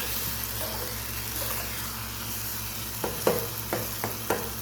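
Eggplant simmering with vinegar in a pan gives a steady low bubbling hiss, then from about three seconds a few short, close scraping stirs break through the boil.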